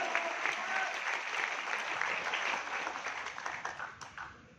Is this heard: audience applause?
yes